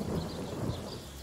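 Thunder rumbles low and steady under a wash of falling rain, a spell's storm effect in the fantasy RPG Divinity: Original Sin, continuous and fairly full for the whole stretch with no voices.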